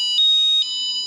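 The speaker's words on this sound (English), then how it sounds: "We're setting off the alarms." Electronic alarm sounding inside the 18th-century wood-panelled rooms of a historic National Trust house, Castle Ward: a loud, steady high-pitched tone with sharp bursts at the start and midway, no talk.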